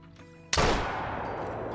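A single loud elephant rifle shot fired at a grizzly bear while hunting in the video game Call of the Wild, an abrupt sharp blast after quiet, followed by a long rolling echo that fades slowly.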